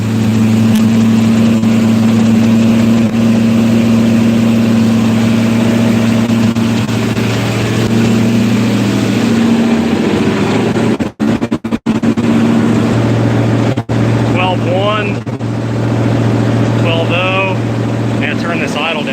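A 4.8 LS V8 engine idles with an exhaust leak, a loud, steady low rumble running throughout with a brief stumble near the middle, and someone speaks over it toward the end.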